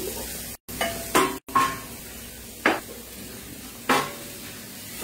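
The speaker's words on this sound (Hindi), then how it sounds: "अब इसको एक बाउल में ट्रांसफर कर लेते हैं।" Cooked food is moved into a bowl in a home kitchen: several sharp clinks and scrapes of a spoon against metal and glass, spaced irregularly over a quiet room with brief silent gaps.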